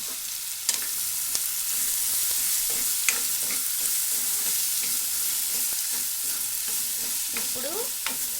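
Onions, mustard seeds and cumin fry in hot oil in a steady, close sizzle with scattered small pops and a few stirring clicks throughout.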